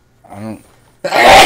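One loud, sharp sneeze bursts out right after a short spoken remark during a Fortnite session.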